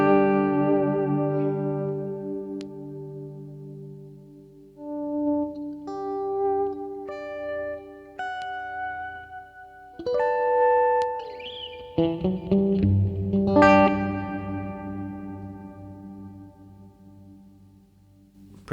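Sustained guitar notes and chords through a Fractal VP4 stone quarry reverb, with long echoing tails; a swelling, washy effect enters midway and the sound stays loud throughout.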